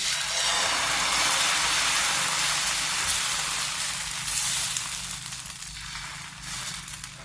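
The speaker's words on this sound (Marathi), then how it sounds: "आणखी एक डोसा मी ओतून दाखवते तुम्हाला त्याच पद्धतीनं" Dosa batter poured onto a hot pan sizzles in a steady, loud broadband hiss that holds for several seconds and then eases slightly, with no talking over it.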